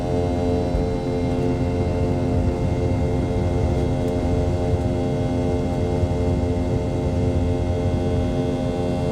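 Steady, loud drone of an airliner cabin in flight on a short 30-minute hop, a dense unbroken hum with sustained tonal engine whine and no voices.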